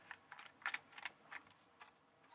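Keys pressed on a ZX Spectrum 48k membrane keyboard give a string of soft, irregular clicks and taps, close but faint, about a dozen presses in quick uneven succession.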